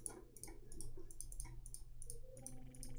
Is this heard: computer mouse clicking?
yes